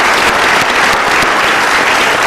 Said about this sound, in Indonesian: Kita berikan tepuk tangan untuk jawaban Anda.